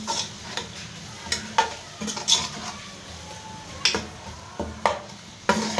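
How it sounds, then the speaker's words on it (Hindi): Garlic and ginger paste frying in a pan while being stirred, with a soft steady sizzle beneath repeated scraping clinks of a spoon against the pan, close and moderately loud. "इसको 1 मिनट तकरीबन हमने भूनना है लहसुन अदरक को।"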